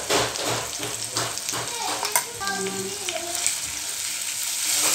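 Onion, tomato and coconut-coriander paste with bay leaf frying in a pan, a dense close sizzle with spoon scrapes as it is stirred and mixed, no voices.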